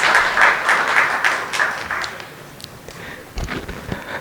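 Applause from the audience at an insurance industry panel event held by the Bombay Chamber, a burst of clapping in a hall that fades toward the end, with faint voices underneath.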